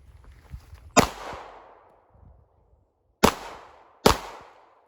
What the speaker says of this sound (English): So we're gonna go ahead and send some rounds down range